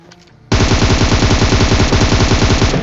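Sustained automatic gunfire from a shooter video game erupts after a brief quiet start, a loud rapid burst of shots continuing steadily for over two seconds with no talk.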